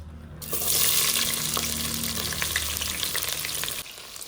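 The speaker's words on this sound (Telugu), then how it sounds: "ఈ ఆనియన్ ఫ్రై చేసుకుందాం." Onions frying in a pan for chicken haleem, a steady loud sizzle that starts abruptly after a brief quiet moment and holds until it cuts off near the end, with some stirring and clinks mixed in.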